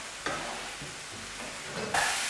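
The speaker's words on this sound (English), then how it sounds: "cook this on a medium heat for about 4 to 5 minutes again until most of the liquid evaporates" Garlic masala paste sizzling and frying in a pan on medium heat, a steady close hiss with soft stirring scrapes that swells brighter near the end.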